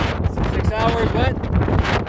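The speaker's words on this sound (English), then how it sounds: "It just got windy right now." Wind picks up on the summit of San Gorgonio, a steady, loud buffeting roar against the microphone that holds throughout with slight swells.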